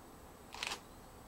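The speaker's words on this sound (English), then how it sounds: "It hits it and it makes a windy noise. Okay, that's winding up again for the next flash." Camera flash on a remote flash rig for digital photography fires once after the shutter, giving a brief, fairly faint high whine of the recharge burst against a quiet background, with no talking.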